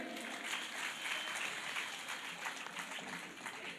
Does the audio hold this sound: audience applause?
yes